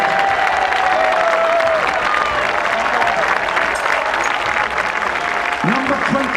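A crowd at the Braemar Gathering, a Highland games event, applauds and cheers steadily for young runners on the last lap of the youth half mile, with voices heard through the continuous clapping.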